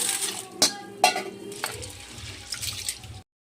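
Split peas (motor dal) being washed in a bowl, with a few sharp clinks and splashes early on, then soft sloshing and rinsing water, close and fairly quiet.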